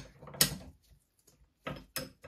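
Locking nut being tightened on an RCBS bullet seater and crimping die: a few short, dry mechanical clicks and scrapes close by, a sharper burst near the start and two more later, with quiet gaps between.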